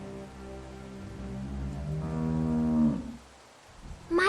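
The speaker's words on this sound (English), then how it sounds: "How do you like that cow, Clint?" A cow in The Walking Dead video game moos loudly in one long, drawn-out, wavering low call, then falls quiet before a brief higher sound at the end.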